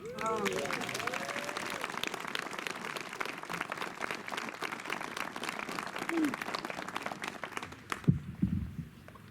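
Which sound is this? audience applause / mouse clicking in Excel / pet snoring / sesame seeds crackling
audience applause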